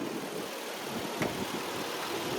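A 4-liter V6 in a 2008 Toyota Tacoma TRD Off-Road with over 400,000 miles, idling with the hood open, a steady broadband engine rumble heard close up without talking.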